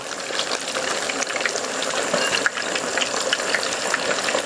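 Cornstarch-coated shrimp frying in hot oil, a dense steady sizzle and bubbling hiss that stays loud and close throughout with no talk.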